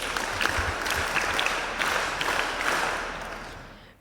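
A school audience at the inauguration of a computer and robotics lab breaks into sustained, dense clapping that fills the room at a steady level before tapering off near the end.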